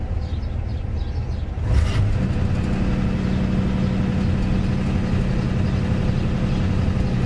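The engine of a 1959 Plymouth car runs steadily with a low, rumbling drone; a brief clunk comes partway through, then the engine hum carries on evenly and close.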